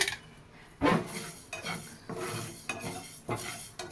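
Green chillies are roasted in a pan, with a few distinct metal scrapes and clanks of a spoon against the pan over a faint sizzle, close and fairly quiet, with no speech.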